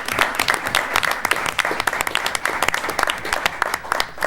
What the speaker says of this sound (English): have to give them a big round of applause